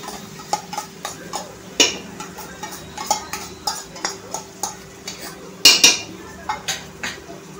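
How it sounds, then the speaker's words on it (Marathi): Masala for hirva masale bhat sautéed in oil in a pan, with a spoon scraping and clinking against the metal in a regular rhythm of sharp taps and a couple of louder knocks, close and clear, no talking. "आता हे सगळं आपण परतून घ्यायचं आहे छानपैकी, तेलावरती छान असा फ्राय करून घ्यायचा आहे"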